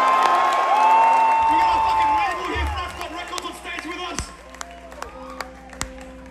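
The crowd at a hardcore band's live set in Silver Spring, Maryland, cheers and claps in scattered bursts, thinning out as someone speaks and lingering electric tones ring in the room.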